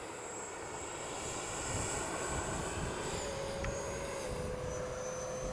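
An F9F-8 Cougar RC model jet flies past, a steady distant turbine roar with a thin high whine that swells slightly midway and holds, with no talking.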